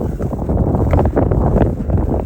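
Strong wind gusts buffet the microphone on a mountain trail near a refuge in the Dolomites, a loud continuous roaring rumble with no speech.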